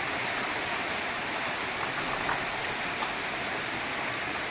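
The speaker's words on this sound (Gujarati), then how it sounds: "હવે બરાબરનો જામ્યો મેહુલ્યો જોઈ લ્યો અંદરા ધાર મંડો વરહવા" Heavy monsoon rain pours down steadily over a village, making a dense, even roar with no breaks and no voices.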